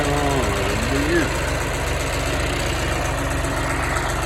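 A John Deere tractor engine idles close by with a steady low throbbing rumble and even vibration, and a brief voice is heard near the start.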